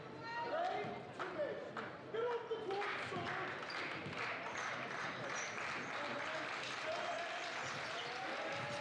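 Crowd clapping in a gym during a boys high school varsity basketball game, rhythmic claps and cheers under a play-by-play commentator's voice, with ball bounces and sneaker squeaks mixed into the steady crowd noise.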